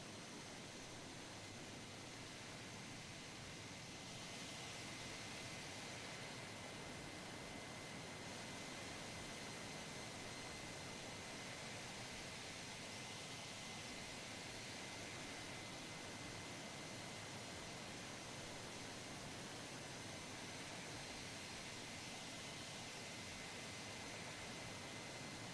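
Steady, dense broadband roar of a B-2 Spirit's jet engines in a flight simulator, continuous and unvarying throughout with no talk.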